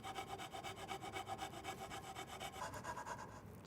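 A fine-tooth saw blade of about 20 teeth per inch cuts slowly through wood with faint, steady, rhythmic rasping strokes, the pace shifting slightly near the end.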